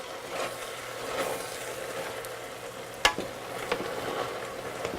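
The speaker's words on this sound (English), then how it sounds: "I'm going to go ahead and stir it here" A pan of red pepper flakes and oregano is stirred over a steady frying sizzle, with a sharp scrape or clack of the utensil midway and a few lighter knocks after, close and without talk.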